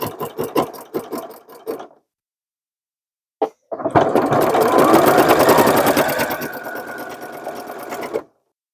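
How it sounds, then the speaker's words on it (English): Sewing machine stitching through three denim layers for an upcycled jeans tote: a short run of rapid stitches, a pause, then a loud, steady run of about four seconds, close and alone. "sew down both sides, and I'll probably also baste across the bottom just to keep all of those layers together"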